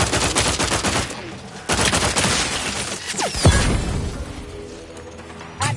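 Gunfire in the video game The Outer Worlds 2: loud rapid bursts of automatic fire with sharp shots, a shattering impact and mechanical clatter, over a brief game voice.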